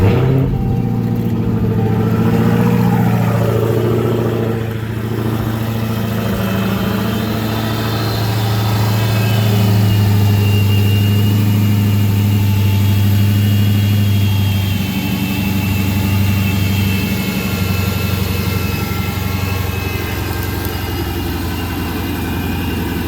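Dodge Hellcat that had overheated idles steadily and loudly throughout, a deep continuous engine drone with a slight rise and fall in level and no talking.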